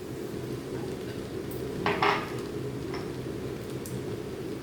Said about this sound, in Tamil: இதை சேர்த்துக்கலாம் சேர்த்துட்டு நல்லா மிக்ஸ் பண்ணி விடணும்